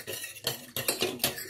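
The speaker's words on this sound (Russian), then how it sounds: "Мы будем перемешать, чтобы не загорела наша основа." A spoon scrapes and clinks against a pot while stirring a thin, liquid base for Armenian matnaqash bread, a quick run of close metallic strokes with no talking.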